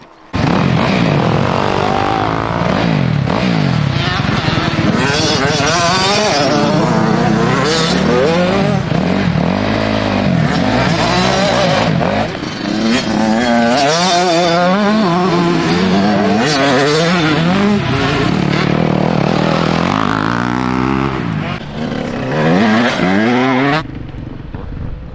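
Motorcycles lap a track at a training camp, engines loud and close, revving and accelerating continuously with rising and falling pitch as bikes pass, for most of the clip before a sudden drop at the end.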